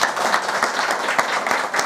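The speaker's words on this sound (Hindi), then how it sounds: "तालियां बजाओ इसके लिए।" A crowd at a government development corporation event in Mankiyar, Himachal Pradesh, claps loudly and continuously, a dense wash of many hands applauding close by without a break.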